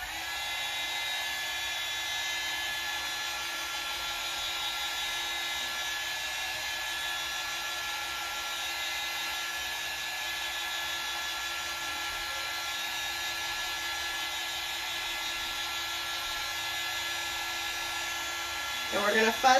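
A hair dryer runs steadily on a fireworks paste-transfer layer, a loud continuous whir holding for nearly twenty seconds before a brief shift at the very end.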